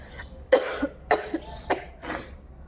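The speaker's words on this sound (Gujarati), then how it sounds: "અત્યારે છે ને ઉધરસ ચડી ગઈ છે મને" Five sharp coughs from a person in cold weather, spaced about half a second apart, close and fairly loud, each a short harsh burst with no talking.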